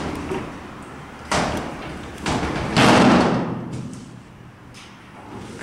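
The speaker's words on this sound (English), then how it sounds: "That is this door hitting the lower door." Westinghouse freight elevator door in Studio City, California, hitting the lower door: heavy metallic thuds and slams, three main impacts with rumbling between, close and loud with no talk.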